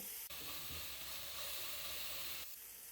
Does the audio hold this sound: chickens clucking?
no